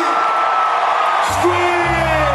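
Concert crowd screaming at a show at Bill Graham Civic in San Francisco, a loud dense roar of whoops and yells that fills the whole stretch, with a sustained tone rising underneath.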